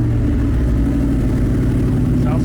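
A Ford Coyote V8 swapped into an F150 truck runs with a deep, steady, loud rumble close by, holding an even idle throughout without a clear revving surge.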